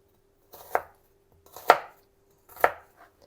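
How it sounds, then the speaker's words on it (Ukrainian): A knife chops an onion on a cutting board, three distinct, close, evenly spaced thuds with a short scrape after each, in a kitchen for Ukrainian red borscht. "Починаю нарізати, починаю з цибулі."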